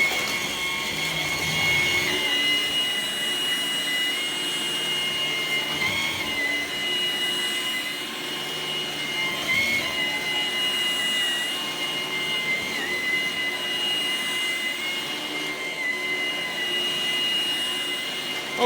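A Ryobi cordless stick vacuum with a 2Ah battery runs steadily at low speed over tile, a continuous whining motor hum with a high-pitched tone, close and sustained with slight fluctuations and no voices.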